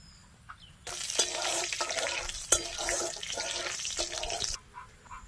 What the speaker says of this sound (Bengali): কড়াতে সর্ষের তেল দিয়ে দিলাম, শুকনো লঙ্কা গোটা জিরে ফোড়নে দিয়ে দিলাম।